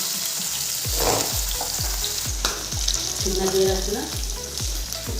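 Fish fries in oil in a pan in a home kitchen. A loud, steady sizzle runs throughout, with regular soft clicks from stirring beneath it and no talking.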